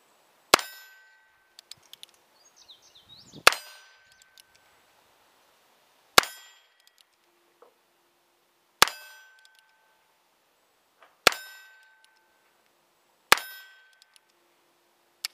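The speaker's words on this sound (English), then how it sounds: "I'm going to take a few shots at the steel target down here" Six sharp metallic clangs from .22 LR rounds fired from a Heritage Rough Rider revolver striking a steel target at an outdoor range, evenly spaced about two to three seconds apart, each ringing briefly before fading.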